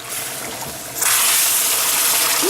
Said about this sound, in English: That is bubbling.